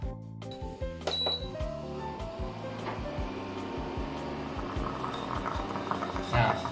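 A moka pot brewing coffee on an induction cooker, its rhythmic electronic pulsing clicks repeating steadily beneath a rising gurgle and hiss as the water pushes up through the tube, close and fairly loud.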